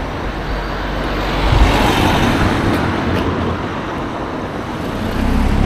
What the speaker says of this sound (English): Of the cars passing.